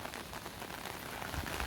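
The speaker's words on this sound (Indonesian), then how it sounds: "Hujan." Rain falls steadily on an evening street outside a Greek restaurant, a dense even hiss of drops that stays constant and fairly close.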